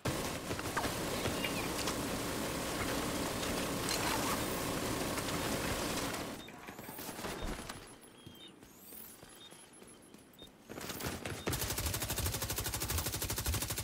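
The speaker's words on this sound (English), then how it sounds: "I like to get underneath the minigun." Minigun firing in a video game, a dense, sustained rattle of rapid shots that stops briefly midway with quieter mechanical sounds, then bursts back in at full loudness.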